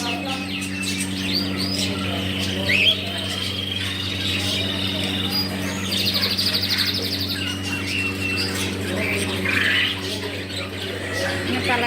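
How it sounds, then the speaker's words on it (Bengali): Caged birds chirp and squawk at a busy market in Fujairah, many overlapping calls rising above a steady hum and crowd noise that run throughout. "এই যে পাখিগুলো অনেক সুন্দর লাগতেছে।"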